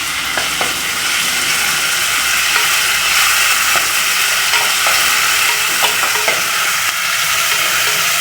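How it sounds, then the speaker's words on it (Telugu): Ginger garlic paste fries in a pan with a dense, loud, continuous sizzle, while a utensil scrapes and stirs through it at irregular intervals. "అల్లం వెల్లిపాయ పేస్ట్ పచ్చివాసన పోయేదాకా వేపుకొని చూపించు."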